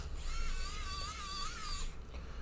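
Small electric screwdriver backing keyboard screws out of a 2008 15-inch MacBook Pro, one brief high whine lasting under two seconds, close but fairly quiet.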